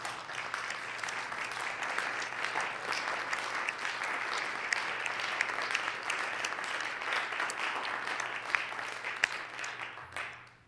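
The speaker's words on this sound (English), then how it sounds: "Let's give him a round of applause." Sustained applause fills the South Dakota Senate chamber, an even, dense patter of many hands clapping at moderate distance that continues for about ten seconds before tapering off.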